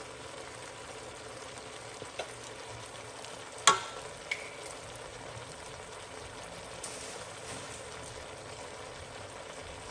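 Curry aubergine with mixed herbs fries quietly in a pan, a low continuous sizzle broken by a sharp utensil clack and a few light scrapes from stirring.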